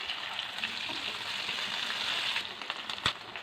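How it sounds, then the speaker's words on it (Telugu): Dried fish frying in hot oil in a pan, a steady crackling sizzle with small pops and one sharp spatter near the end, close and moderately loud, with no talking. "నూనె పోసుకున్నాం. ఎండు చేపలు వేసుకున్నాము."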